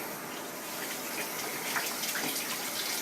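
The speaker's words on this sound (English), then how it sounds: "I like to rinse my wool after I've washed it so that I get all the dirties out." Wool being rinsed under running water from a tap, a steady close splashing flow that continues throughout without speech.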